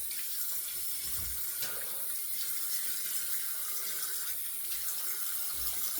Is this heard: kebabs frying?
no